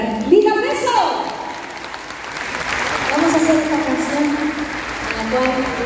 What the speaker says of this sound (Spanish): El aplauso fuerte para la gran Lita Peso